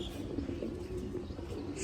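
Pigeons on a farm coo in a continuous low, throaty murmur, several birds overlapping at moderate distance, with occasional faint chirps above a steady background hum.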